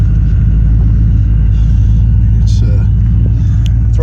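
A 1990 Chevrolet K2500 Silverado pickup with a newly installed 4L80E transmission on a test drive, its engine a loud, steady low rumble heard from inside the cab, with a voice talking over it.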